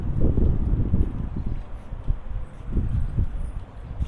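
Cool wind blowing outdoors near a temple in Chandigarh, a steady low rumbling buffet across the microphone with gusty swells throughout, no speech.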